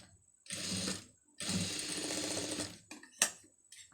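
A sewing machine stitches lace onto the neckline of a blouse, running in two sustained bursts with short pauses between them and then a few brief clicks and stops, heard close and alone.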